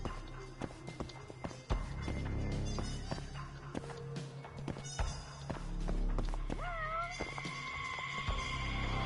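A cat meows in the video game Judgement, with a couple of clear meows late in the stretch, set against game music, footsteps and scattered thuds.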